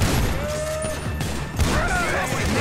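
Gunfire in the video game GTA V: a loud, dense burst of shots and crashing impacts, close and continuous, with no gaps.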